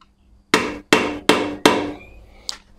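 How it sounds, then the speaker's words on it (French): Four sharp, evenly spaced hammer strikes drive a center punch into the bottom of a stuck screw head on an engine, each a loud metallic crack that rings and fades, followed by one lighter tap. "C'est de prendre un pointeau, de taper un petit peu au fond de la vis de l'empreinte pour décoller les filets."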